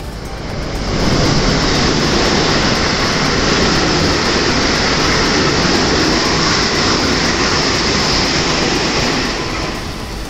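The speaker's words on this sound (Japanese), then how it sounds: "一足先に右側の草津線直通電車が先に出発し、その後左側の普通電車が追いかけていきます。" Two trains depart one after the other near Kyoto: a Kusatsu Line through train leaves first, and a local train follows. A loud, continuous rolling rumble builds within the first second and holds steady before easing slightly at the end.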